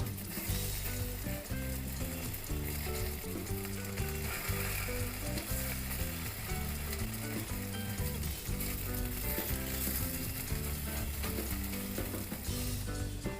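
Raw banana pieces frying in a little oil and being flipped, a steady close sizzle with busy crackle under a loud rhythmic mechanical background pattern that runs throughout.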